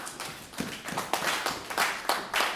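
A church congregation claps in unison after the Bible reading, a steady series of loud, rhythmic handclaps from a crowd in a hall with no talking.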